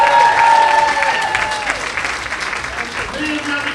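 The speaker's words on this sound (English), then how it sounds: "big round of applause for everyone who beat the gong tonight." An audience claps and cheers at a comedy gong show night, a dense burst of applause that gradually thins, with a voice speaking over it.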